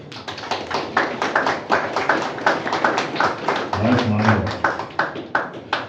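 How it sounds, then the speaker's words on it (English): An audience at a Lions rugby sponsorship launch panel applauds with steady, brisk clapping throughout, and a voice briefly cuts through midway. "Another round of applause."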